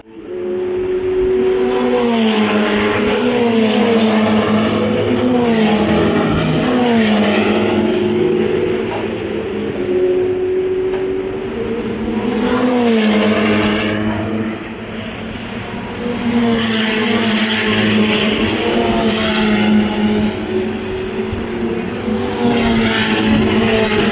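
Ferrari Challenge race cars roar around the circuit at the Montreal Grand Prix, loud engines howling continuously as they accelerate and pass, with no talk over them.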